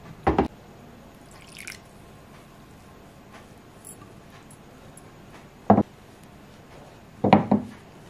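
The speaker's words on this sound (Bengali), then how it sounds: "দিয়ে দিচ্ছি জল।" Water is added a little at a time to flour dough, kneaded with ghee, for Bengali nimki: a few sharp, isolated splashes and drips with quiet gaps between them in a still kitchen.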